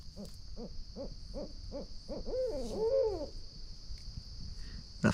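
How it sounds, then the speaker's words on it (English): Owls hoot in a South Florida pine stand at night: a rhythmic run of about seven low hoots builds into a wavering, cackling call, over a constant high insect drone. "I've caught up enough owls that they're all around me in the pines."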